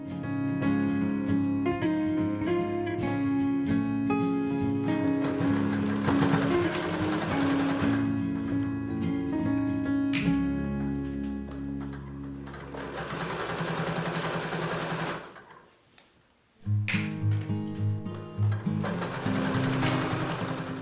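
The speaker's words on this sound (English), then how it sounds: "I went ahead and top stitched the bottom skirt seams in the hopes that those interesting seam lines would show a bit more" A sewing machine top stitches the bottom skirt seams of a dress, running in long steady bursts with a brief pause near the end before stitching resumes, close and loud.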